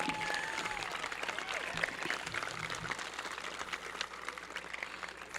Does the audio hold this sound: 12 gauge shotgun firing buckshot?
no